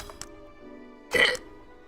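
A single hiccup, a short throaty gulp-like burst partway through, with faint breathing and slight stirring before it in an otherwise quiet room.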